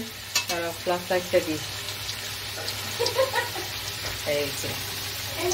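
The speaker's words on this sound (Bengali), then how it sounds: "এই দেখো আলু ভাজা হচ্ছে" Potatoes fry in a pan in a home kitchen with a soft, steady sizzle under a few short bursts of stirring and clattering, while someone talks briefly.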